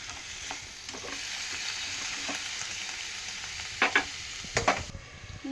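Chopped tomatoes stirred and fried in a pan for tomato roti pachadi give a steady close sizzle, broken by scraping stirs that bunch into a few sharp knocks near the end.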